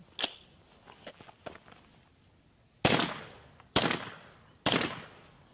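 Three sharp, loud suppressed gunshots from a 10.5-inch-barrel 300 Blackout rifle fitted with a Surefire SOCOM Mini 2 suppressor, firing subsonic GEMTECH ammunition, spaced about a second apart after a few faint clicks and handling noises.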